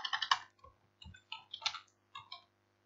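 Keys on a computer keyboard are typed in quick, close clicks, with a flurry at the start followed by sparser taps and pauses, in a quiet room.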